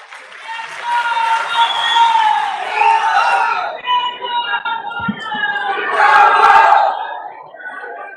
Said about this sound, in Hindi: आप बहुत तालियां बजा रहे थे